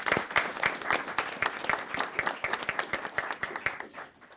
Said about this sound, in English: All right, round of applause, please.